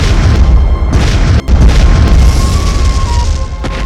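A loud, deep explosion booms with a rumbling roar that fills the whole moment, broken by a sharp instant cut before the rumble resumes and fades slightly.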